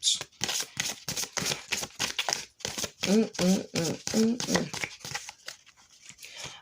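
Rapid bursts of card shuffling, crisp riffling flutters repeating several times, close up, with a voice talking briefly in the middle.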